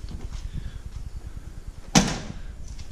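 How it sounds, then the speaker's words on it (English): A truck door swings shut once with a single sharp thud about two-thirds of the way through, over a steady low idling rumble. "Also fixed this door so it would shut."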